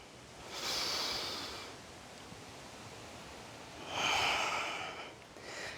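Two slow, airy breaths are pushed out close to the mic during a yoga squat, each a soft rushing exhale lasting about a second, with quiet stillness between and a third breath starting at the end.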